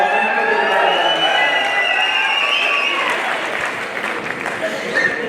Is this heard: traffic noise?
no